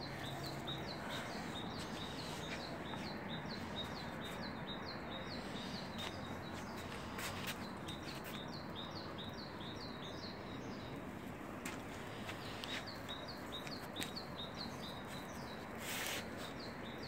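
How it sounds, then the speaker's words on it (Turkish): Small birds chirp outdoors in repeated quick bursts of high tweets, fairly near, over a steady background hush with occasional faint clicks. "Kuş da nasıl zikrediyor biliyor musun amca? Kendi lisanıyla."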